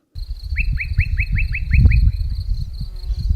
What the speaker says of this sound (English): We wake to the sound of very active and boisterous birds.